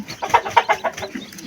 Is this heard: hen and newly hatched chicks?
yes